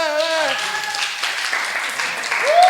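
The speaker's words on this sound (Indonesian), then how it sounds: "Tepuk tangannya." Applause from a youth worship gathering follows a friendly competitive game, a broad wash of clapping filling the whole stretch with a voice briefly speaking at the start and end.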